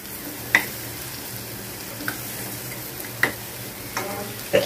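Okra stir-fry in a home kitchen pan, a quiet steady sizzle broken by a few sharp clinks and scrapes of a small spoon stirring, heard close with no talking.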